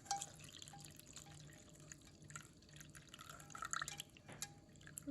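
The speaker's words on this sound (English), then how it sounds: "the porcini through, just to make sure that there's no grit in there" Porcini mushroom soaking liquid drips through a coffee filter set in a strainer, producing quiet, scattered drips and small splashes at close range over a faint background hum.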